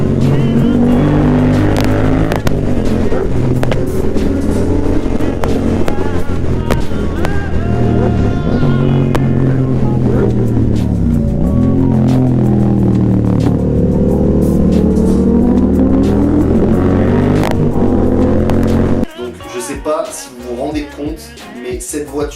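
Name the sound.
Lamborghini Huracan Performante engine roaring while driving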